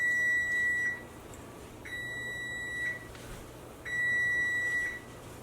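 An electronic timer beeps in three sustained high-pitched tones, evenly spaced, with quiet hum between them and no talking.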